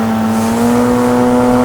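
A paramotor engine drones steadily in flight over a park at close range, a loud, even, continuous hum with no breaks and no voices.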